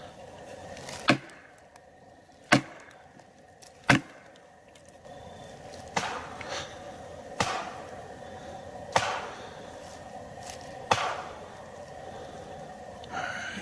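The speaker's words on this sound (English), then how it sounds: "I'm gonna try one last thing, tree knock." A series of sharp, hollow knocks strike a tree at irregular intervals, about eight in all, echoing faintly in quiet Appalachian woods.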